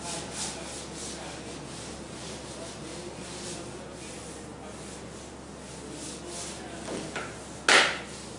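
A lecturer rubs a classroom board clean with a steady scrubbing sound that ends in a short, sharper swipe near the end.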